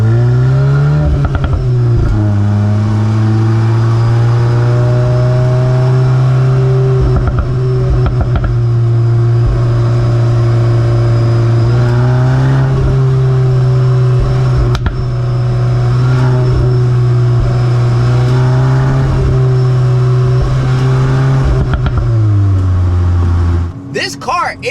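A VW MK8 Golf R engine revs loudly and steadily close by, its drone rising and falling over about twenty-five seconds before cutting off, with exhaust pops not clearly distinguishable and a voice talking over it.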